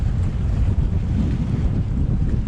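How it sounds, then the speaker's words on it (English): Strong wind roars steadily across the microphone with low rumbling buffeting, heard aboard a sailboat at sea in the British Virgin Islands, without voices. "Beat up wind now, it's very windy out here."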